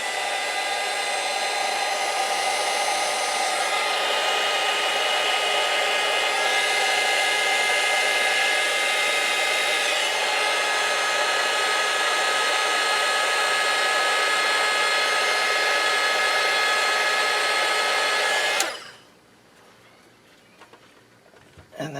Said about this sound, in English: this will cover that just right there, and we will heat gun it